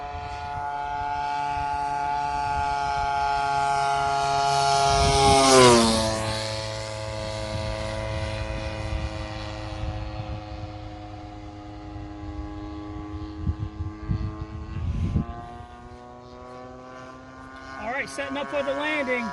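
A Great Planes 50cc Revolver RC airplane on its maiden flight makes a loud, steady gas-engine drone that swells and sweeps sharply in pitch as it passes low and fast near the middle, then fades away. People talk over it.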